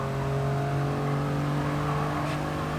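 A Toyota GR Yaris in Gran Turismo Sport holds a steady, loud engine drone as it accelerates, with a constant harmonic whine throughout and no voices.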